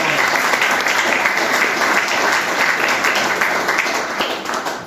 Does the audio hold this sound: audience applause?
yes